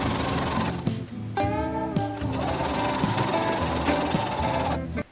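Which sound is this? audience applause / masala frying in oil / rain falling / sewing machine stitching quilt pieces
sewing machine stitching quilt pieces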